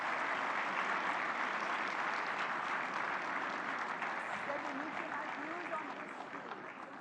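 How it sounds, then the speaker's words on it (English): Audience applause greeting the Prime Minister's arrival at Bharat Mandapam during an AI summit, a steady, dense roar of clapping throughout that fades slightly near the end, with faint voices beneath. "Let's have a big round of applause."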